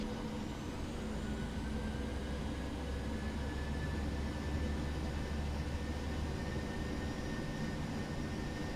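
Boeing 737-800 jet engines spooling up to takeoff thrust in a flight simulator: a faint, steady low roar with a thin whining tone rising slowly across, continuous and even, with no voices.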